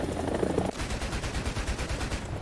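Rapid, continuous automatic cannon fire from a Mi-28NM attack helicopter in War Thunder, loud and close, with a helicopter-like drone at the start.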